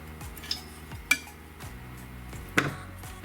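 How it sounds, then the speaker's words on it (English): A metal palette knife scrapes and spreads oil paint colors on a palette, with sharp scraping strokes about three times and softer smears between them, close by and with no talking. "picking the knife, picking all the colors up on the knife, and then spreading them out"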